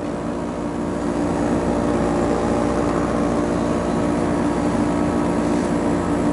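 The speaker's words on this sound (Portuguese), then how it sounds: "Esse barulho é do motor do ar." A 12000 BTU 220V air conditioner running on 127V through an autotransformer, its motor giving a steady, continuous droning hum with broadband airflow noise, close and unchanging, with no speech.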